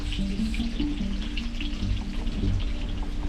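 Steady sizzling and crackling of food frying in a pan inside an abandoned shack during a thunderstorm, continuous and close, with faint clinks and a low hum underneath.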